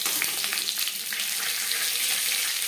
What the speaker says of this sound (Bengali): দিয়ে দিলাম শুকনো লঙ্কা। ভেজে নেওয়ার পরে অ্যাড করছি 5 ফোড়ন। আর দিয়েছিলাম সরষের তেল।